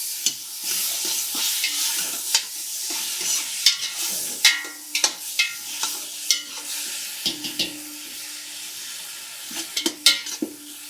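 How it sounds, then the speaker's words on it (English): Butter melting in a pot for tomato soup gives a steady soft sizzle, punctuated by frequent close clinks and scrapes of a utensil stirring against the pot. "as that butter comes down and it starts to melt"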